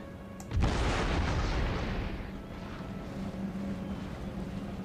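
One loud cannon blast booms out in the Empire Total War battle game, then its heavy rumble fades slowly into low ambient battlefield noise.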